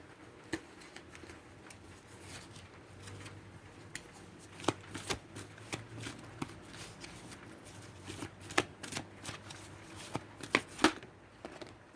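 A deck of tarot cards is shuffled up close, producing a run of sharp papery snaps and riffles in uneven bursts over a low steady background hum.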